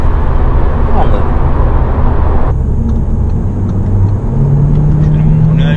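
An Audi A3 Sedan 35 TFSI in manual mode holds around 4000 rpm, giving a steady engine drone and road rumble inside the cabin under someone talking.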